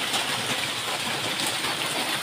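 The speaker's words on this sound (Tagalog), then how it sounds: "Ang ulan." Heavy rain pours down in a dense, steady hiss with no letup, loud and close, and no voices.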